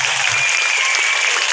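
Steady applause from an audience fills the moment, dense and continuous throughout with no voices over it.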